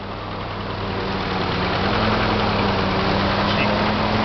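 A Willys military jeep engine idles steadily, a low rumbling purr that holds even throughout and swells slightly midway, with no talking.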